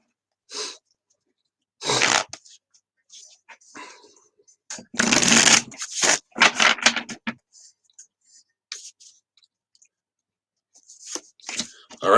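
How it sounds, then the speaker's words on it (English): Tarot cards being shuffled and pulled from the deck, heard as a series of brisk papery riffles and flicks that come in uneven bursts with quiet gaps between them. "So let's pull a couple cards here, gain some clarity."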